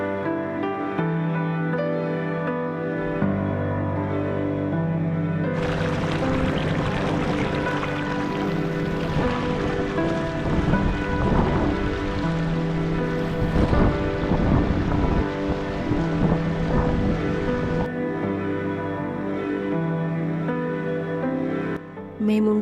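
Water roars steadily at the Athirapally waterfall and river in Kerala, a broad continuous rush that swells louder in the middle stretch, near and without talk.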